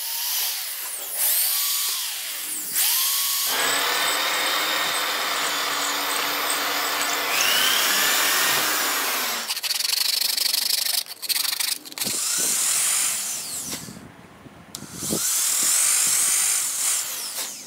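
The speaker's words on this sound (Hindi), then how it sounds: "फिर ड्रिल करके हमें होल कर लेना है सबवूफर के लिए।" A power drill bores holes into an MDF board for a subwoofer, loud grinding bursts of a few seconds each, separated by short pauses and rubbing sounds.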